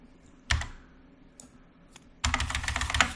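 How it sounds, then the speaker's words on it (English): Deck of game cards being reshuffled during a Mage Knight board game, heard as a short riffle and then a longer, louder flurry of rapid crisp card clicks close by, with no talking. "And reshuffle that deck."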